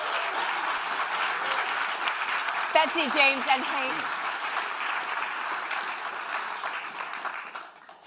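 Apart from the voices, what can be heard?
audience applause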